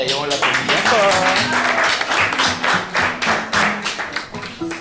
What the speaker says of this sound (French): On l'applaudit encore.